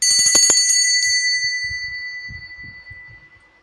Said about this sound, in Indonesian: lonceng berbunyi.